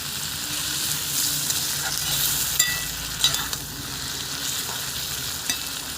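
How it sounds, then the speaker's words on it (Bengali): Sliced onion and green chilli fry in fish oil while being stirred, giving a constant dense sizzle close up with occasional scraping and light clicks of the spoon against the pan. "এটা ভাজবো এটা তেল উঠবে এইভাবে একটু ভালো করে ভেজে নেব"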